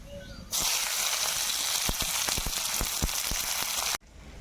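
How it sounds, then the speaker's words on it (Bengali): Dried red chillies, bay leaves, whole cumin and chopped onion drop into hot oil and burst into a loud, steady sizzle and hiss, with scattered crackles and pops, close by, before cutting off abruptly. "এবার ফোড়নে দেব শুকনো লঙ্কা তেজপাতা গোটা জিরে কুচনো রাখা পেঁয়াজ দিয়ে দেব"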